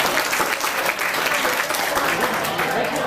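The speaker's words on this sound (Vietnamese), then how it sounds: "Xin cho quý ân nhân và thân nhân một tràng pháo tay to ạ." Audience applause at a year-end variety performance, a dense, steady clapping that fills the whole stretch at an even, full level with no pauses.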